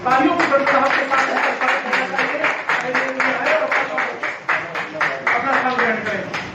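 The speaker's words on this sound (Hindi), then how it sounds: "तालियों की गड़गड़ाहट के साथ" A crowd at a Hindu Samaj Party nomination event in Modinagar, Ghaziabad applauds to welcome a party official on stage, with steady, dense clapping that carries through the whole stretch at a loud, even level.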